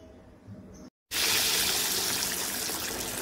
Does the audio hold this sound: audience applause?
no